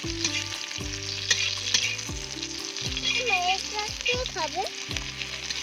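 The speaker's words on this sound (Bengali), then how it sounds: "পিঁয়াজ পেঁয়াজ উড়ে রে পিঁয়াজ ভাজা" Close, loud sizzling of onions frying in a pan, with repeated rhythmic scraping and stirring strokes and a brief voice partway through.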